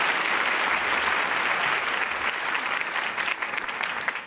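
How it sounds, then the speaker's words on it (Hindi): An audience claps to welcome an education minister at an awards ceremony, broad steady applause that stays full for most of the moment and begins thinning toward the end. "आप सभी तालियां बजाकर उनका स्वागत कीजिए"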